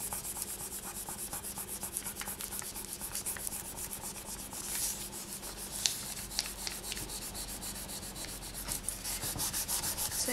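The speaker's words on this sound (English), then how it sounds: "I'm gonna grab my clay, paper, and I'm just gonna burnish until that is set" Steady close rubbing and scraping of paper being burnished over polymer clay, a continuous dry scratchy texture with no talking.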